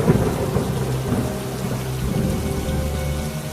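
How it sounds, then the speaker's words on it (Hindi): Heavy rain pours steadily with rolling thunder rumbling low beneath it during a village flood, a continuous dense wash of drops with no voices. "इस बारिश में हमारे घर डूब गए हैं।"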